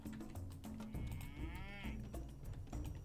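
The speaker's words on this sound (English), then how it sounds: "Wait, where the hell did I get that cow?" A cow moos in Age of Mythology Retold, a long, drawn-out low call that stands out clearly against a steady bed of game music and ambience.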